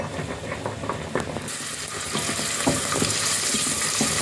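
Coarsely chopped onion frying in a pan, a steady sizzle that swells louder after the first moment and carries on with faint stirring clicks and scrapes, close up with no talk.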